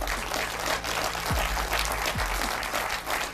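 Audience applause for a political speech, a steady wash of many hands clapping at even volume throughout, with a faint low hum beneath and no talking.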